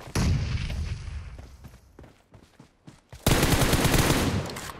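PUBG Mobile gunfire arrives as loud, rapid automatic bursts, then a stretch of scattered single shots and echoes, before another long, intense burst of sustained fire.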